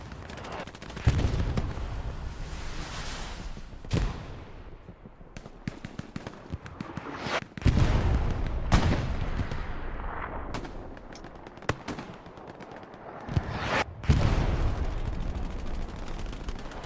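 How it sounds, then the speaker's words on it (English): Artillery shells slam onto a garrison in Hell Let Loose, with a series of heavy, loud explosions spaced a few seconds apart, interspersed with crackling gunfire and rumbling aftermath, with almost no talk. "Big artillery landing directly on the garrison"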